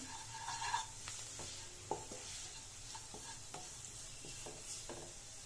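Spicy egg sukka being stirred in a pan, faint sizzling under repeated soft scrapes and clinks of a spoon against the pan at an irregular pace.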